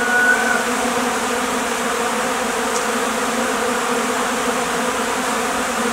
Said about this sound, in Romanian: 2000 de albine plecate la cules.